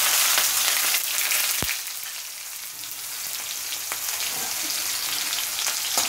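Onion frying in leftover oil in a kadai, a steady broadband sizzle running throughout with a few sharp clicks of stirring, close and fairly loud with no talking.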